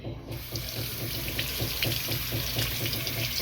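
Water runs and splashes steadily over a saw-cut rock beside a creek, a close, continuous faucet-like trickle with no voices.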